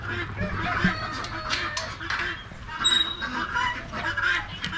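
Young poultry in a pen honk and cackle repeatedly at close range, a busy overlapping chorus of goose-like calls and clucks throughout.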